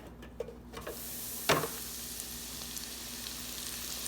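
Mushrooms drop into a hot pan after chicken wings, setting off a sudden bright sizzle that rises and holds as a steady, fairly faint frying hiss, with a sharp clatter around the middle.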